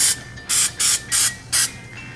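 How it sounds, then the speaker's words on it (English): Five short bursts of coconut oil cooking spray hissing close by onto muffin pans in a quick, uneven rhythm, separated by brief pauses. "my pans with a little bit of Pam coconut oil cooking spray"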